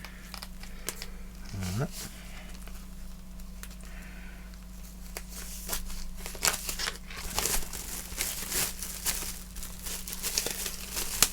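Crinkling plastic being peeled off a vinyl record during an unboxing, soft crackles and rustles that grow denser and louder toward the end, with a low steady hum underneath and a brief spoken word.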